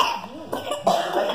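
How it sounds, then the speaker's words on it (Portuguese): A child gives a couple of quick, close coughs in a home while playing around with a drum kit. "Sinfonia da tosse."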